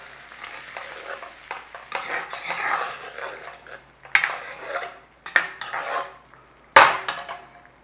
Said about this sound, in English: Stir through.